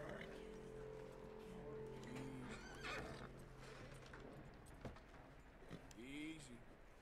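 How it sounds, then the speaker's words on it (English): A horse neighs and whinnies in Red Dead Redemption 2, with hoof clip-clops and game ambience around it, all under a low, steady background. "Calm the horse. Approach the horse."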